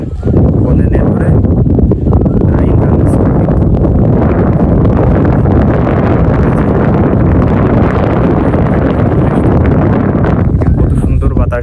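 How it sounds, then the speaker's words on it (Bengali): Steady, strong wind buffets the microphone on a riverside sand bank beside the Gorai river, a continuous loud rushing roar with no break. "কত সুন্দর বাতাস দিচ্ছে"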